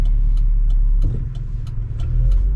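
A 1997 Volvo S70 with a 2.5-litre five-cylinder engine hums loud and smooth from inside while driving, a steady low drone with faint regular ticking above it and no talking.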